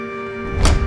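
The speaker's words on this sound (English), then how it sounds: "it's the sound of the Beetle door" A single solid Volkswagen Beetle car door thunk, sharp and close, following a moment of steady background hum.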